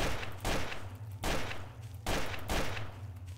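Repeated gunfire in the video game Trouble in Terrorist Town, played in a nightmare church map: four loud bursts of shots in quick succession, each lasting roughly half a second, with no talk over them.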